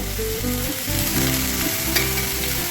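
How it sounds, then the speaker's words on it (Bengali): Cabbage, capsicum and spring onion sauté lightly in a pan, giving a steady close sizzle with brief stirring scrapes throughout, no one talking. "এটা হালকা সতে করে নেওয়া"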